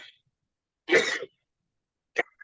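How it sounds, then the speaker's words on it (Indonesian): A single loud, harsh cough bursts out in near silence, followed a second later by a shorter throat-clearing sound. "saya batuk agak lumayan keras."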